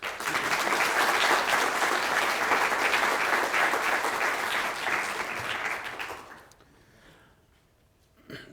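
Audience in a theatre applauding to welcome a speaker, dense sustained clapping that swells, then thins and fades out over the last couple of seconds.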